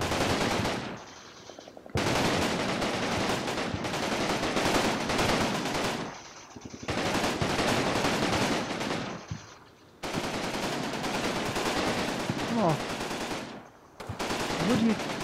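Sustained bursts of heavy gunfire from a Combat Mission battle, several long loud volleys broken by short pauses, with chattering automatic fire rolling on without voices.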